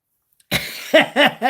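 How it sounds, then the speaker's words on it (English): A man coughs after a second of silence, a rough burst followed by three sharp, evenly spaced coughs, close and loud. "I still got a little cough, man."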